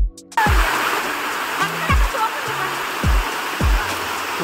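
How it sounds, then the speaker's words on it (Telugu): Munjuluru waterfall roars with rushing water in a steady, full wash of sound that starts abruptly and continues loud and close, with faint voices and small splashes over it. "జలపాతం దగ్గర"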